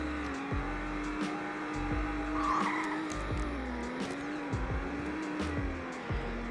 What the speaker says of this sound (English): So here is a 0 to 60 test in the BMW.